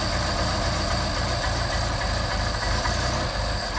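A Mercedes 190SL engine with a Solex carburettor idles steadily close by, a continuous low rumble with a faint rhythmic knock and a broad mechanical hiss, running alone at even loudness.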